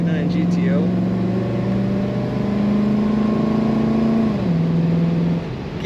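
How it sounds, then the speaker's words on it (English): A 1969 Pontiac GTO 'The Judge' V8 pulls hard under throttle as its four-barrel carburetor opens, a loud, steady rising drone that climbs in pitch, then drops briefly at a shift before settling. "You can hear the four-barrel open up when you get on the throttle."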